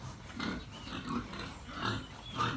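Pigs raised for fattening and sale on a small farm, grunting in several rounded bursts close by, with no talk over them.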